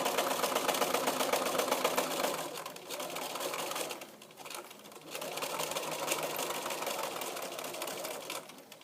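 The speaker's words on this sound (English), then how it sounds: "So you're sewing right to the top of the bias binding, and then you're back stitching." A sewing machine stitching and back stitching a bias-bound pocket on a duffle bag, a fast steady mechanical whirr close by with a short pause midway before it runs again, no voices.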